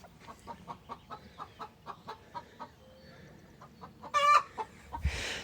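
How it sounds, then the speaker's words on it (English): Chickens cluck in a steady, rhythmic series of short calls while laying an egg, then a louder squawking burst near the end; faint, with no talking. "Yeah, that's the egg laying sound."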